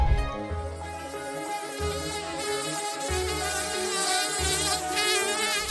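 A dense swarm of houseflies drones loudly and continuously in a village near poultry farms, a close, shimmering buzz with pulsing swells and no talk.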